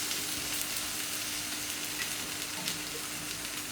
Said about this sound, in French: nous allons flamber nos grosses gambas.